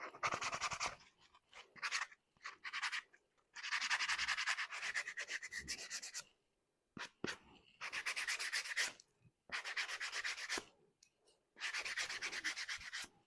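Hand sanding scuffs the surface of a Mathews LowPro archery quiver, repeated rough rubbing strokes in bursts with short pauses between them, close and alone.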